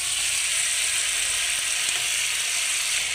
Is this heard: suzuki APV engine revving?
no